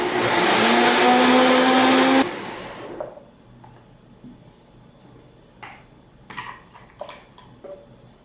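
Blender whirring loudly as it mixes a detox shake of spinach and berries, a dense steady roar for about two seconds that cuts off abruptly, followed by quiet scattered clinks and small handling noises.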